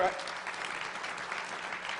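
An audience applauds at a county State of the County address, with a dense, continuous patter of clapping held at a steady moderate level throughout, fairly distant and without a break.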